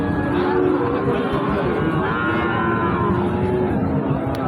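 Pakistani Sahiwal cattle low at a busy cattle market, their deep moos rising over a steady, dense wash of crowd and market noise throughout.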